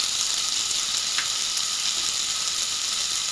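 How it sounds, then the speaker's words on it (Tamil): Onions and tomatoes with turmeric sauté in a pan, giving a steady, even hiss of frying with a faint tick or two of stirring, moderately quiet and continuous with no voices. "வெங்காயம் தக்காளி எல்லாம் நல்லா வதங்கிருச்சுங்க"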